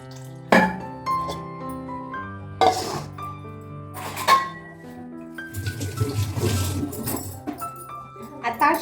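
A pot is washed with water: sharp metallic clinks and knocks, followed by splashing and running water, under a voice talking.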